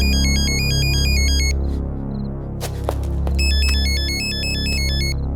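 A phone rings loudly with an electronic ringtone in repeated bursts, pausing briefly in the middle before ringing again, over a low background hum.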